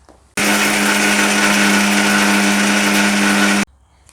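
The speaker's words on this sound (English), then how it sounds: "so I'm going to grind it to a powder" An electric grinder whirs loudly and steadily for about three seconds, reducing roasted spices for chutney pudi to a coarse powder, then cuts off abruptly.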